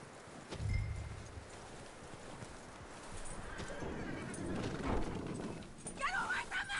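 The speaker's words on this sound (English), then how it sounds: "That looks like a decent horse. You should keep him." Horse hooves clip-clopping in Red Dead Redemption 2, a steady gait under game ambience and a brief whinny near the start, with voices talking over much of it.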